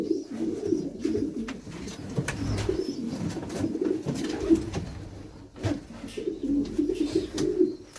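Racing pigeons in a loft in Madrid, Spain, coo repeatedly in low, throaty rolls, several birds overlapping at close range with soft flutters and shuffling in between.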